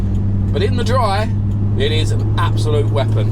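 A 1400-horsepower Toyota Supra cruising on a road, its engine a low, steady drone heard from inside the car beneath someone talking over it throughout.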